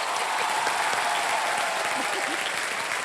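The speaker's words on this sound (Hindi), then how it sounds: "आप लोग सब खड़े होके इनके 1 रुपए के लिए ताली बजाएंगे।" A television game show studio audience claps loudly and steadily, a dense continuous round of applause filling the whole moment without letup.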